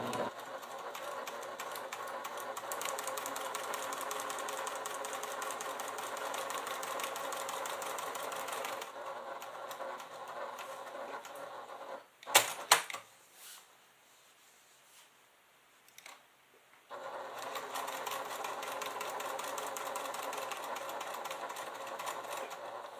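A sewing machine stitches a Simply Classic fabric clutch in long, steady runs, stopping briefly for a few clacks and a near-silent pause, then resuming at an even pace with no talk.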